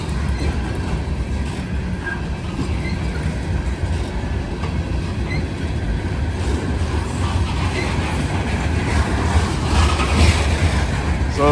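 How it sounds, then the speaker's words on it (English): A heavy, loaded coal train with distributed power rolls steadily past a busy railroad crossing at night, a continuous loud rumble with rhythmic wheel clatter that holds throughout. "This coal train's loaded."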